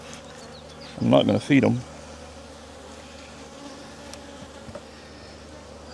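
Honeybees buzzing steadily around an open backyard hive during an inspection, a close loud burst of buzzing early on, then a fainter hum, with someone talking briefly.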